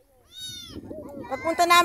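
A single high kitten meow rings out clearly by the sea, followed by people talking nearby over faint background noise.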